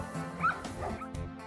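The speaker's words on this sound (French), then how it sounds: "Un chiot très sociable recherche le contact de l'homme." A young puppy yips and whimpers close by in a short, high, wavering burst of whines with a small yelp, no talking.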